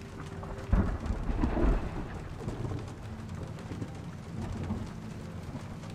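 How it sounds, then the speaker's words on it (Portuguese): Rain falls steadily during a thunderstorm in the Shadow of the Tomb Raider video game, with a low thunder rumble near the start over a continuous wash of rainfall. "O barulho da chuva é muito bom, né?"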